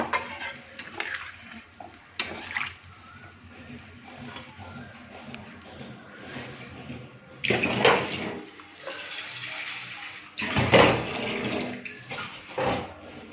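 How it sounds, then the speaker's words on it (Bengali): Water is poured into a curry pot in a few separate splashing bursts, loud and close, with quieter clinks and shuffling in between. "এবার আমি ঝোলের পানি দিয়ে দিব।"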